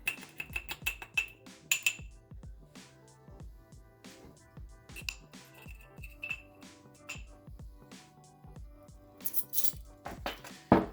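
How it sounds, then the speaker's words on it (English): Taco seasoning being stirred into quesadilla filling, with a spoon clinking and tapping against a metal pan or bowl in quick irregular knocks, close and clear, and a short louder clatter near the end. "I'm going to mix that right in"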